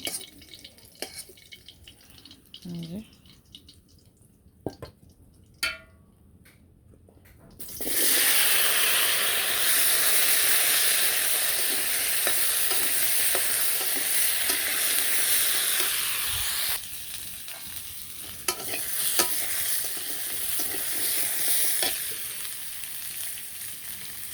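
Fish (nowla, katla and chital) frying in a pan, with a loud, continuous hiss and sizzle that rises abruptly after quieter kitchen clatter and drips, then eases slightly toward the end.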